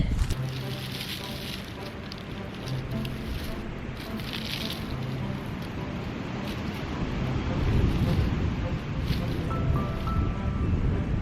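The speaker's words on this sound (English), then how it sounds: "Oh, it's pretty windy." Steady wind roars and rushes across the microphone for several seconds on a farm, swelling louder toward the end, with a voice faintly audible underneath.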